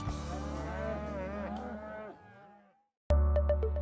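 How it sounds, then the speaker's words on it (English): A stressed calf that has been run through a cattle chute lets out a long, loud moo. After a moment of silence, a short burst of another sound follows. "Say this is a calf that's been run through the chute a few too many times."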